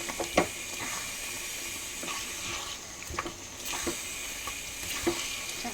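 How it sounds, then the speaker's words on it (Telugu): Chicken pieces are stirred into a masala gravy in a hot pan, giving soft continuous sizzling with intermittent scraping and spoon knocks, faint and close, without speech. "చికెన్ వేసాక ఇలా కలుపుకోవాలి. బాగా దించేసేలాగా మసాలా మొత్తం"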